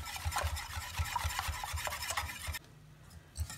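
A spoon stirs a milk pudding mixture in a pot with quick, rhythmic scraping strokes, close and fairly faint, repeating steadily before stopping near the end with a final scrape.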